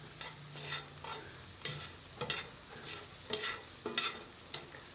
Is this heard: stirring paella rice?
yes